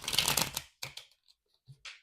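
A deck of tarot cards is riffled in one dense, crisp burst, followed by a few soft taps and shuffles as the cards are squared up in a quiet room.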